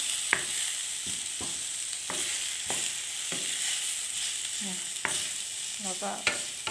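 Egg and sliced bamboo shoots sizzle steadily in a hot pan while a utensil stirs, knocking against the pan in irregular sharp clicks. No voices.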